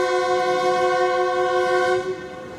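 A standard gauge railway train sounds a loud, sustained horn blast close by, rich and steady, fading slightly at the end over faint background rumble.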